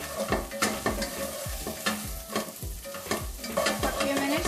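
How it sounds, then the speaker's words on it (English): Potatoes and cauliflower sautéing with pepper, coriander powder and salt while a spoon stirs them through the pan in steady scraping strokes, a light sizzle running underneath, close and fairly loud. "saute it for a few minutes until all the raw smell goes away."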